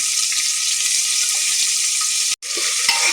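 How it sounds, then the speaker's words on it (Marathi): Vegetables and soya chunks for veg biryani fry in a pan, a loud continuous close sizzle broken briefly by a sudden silent gap before the frying hiss resumes, with faint stirring knocks. "छान प्रकारे याला हलवून घ्यायचं"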